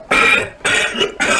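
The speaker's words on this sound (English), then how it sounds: "I think you just coughed" Three loud, harsh coughs come in quick succession from a person close by in a public shop, each a rough burst of about a third of a second.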